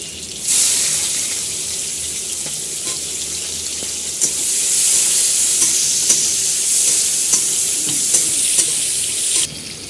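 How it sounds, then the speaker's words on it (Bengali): Whole spices and chopped onion frying in hot oil, including bay leaves, cinnamon, dried red chillies, cumin seeds and cardamom, giving a loud continuous sizzle with occasional sharp pops and clicks of stirring. "আর এখানে গোটা গরম মশলা নিয়ে নিই দুটো তেজপাতা দারচিনি দুটো শুকনো লঙ্কা গোটা জিরে আর একটা এলাচ দিয়ে দেবো পেঁয়াজ কুচি"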